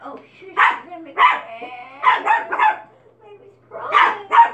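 A dog barks and yips indoors near a waking baby, several sharp loud bursts in uneven clusters with short quiet gaps between them.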